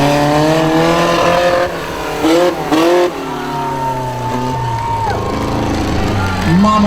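Monster truck engines roar and rev loudly during a freestyle competition at a fair, with harmonic pitch rising and falling through hard accelerations and short bursts.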